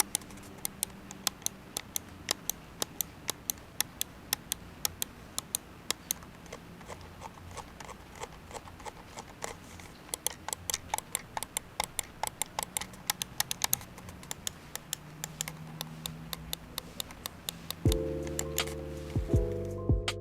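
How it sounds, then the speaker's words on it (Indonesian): Rapid, crisp clicking of a PressPlay NOVA V4 mouse button, repeated many times in quick irregular bursts, close up, ending with a brief low tonal sound. "Untuk sound buttonnya itu ketika kita klik ya suaranya kurang lebih kayak gini."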